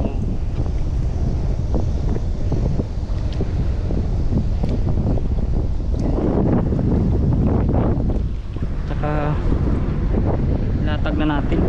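Strong wind buffeting the microphone over open water by a small fishing boat, a steady loud roar with splashing surges throughout.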